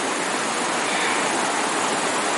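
Dense, steady rushing water fills the whole clip, a close, loud flowing stream at a trail water crossing in the San Gabriel Mountains, with no other sounds.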